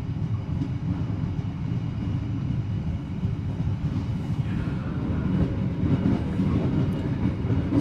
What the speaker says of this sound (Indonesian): kereta Walahar dari Cikarang tujuan ke arah Purwakarta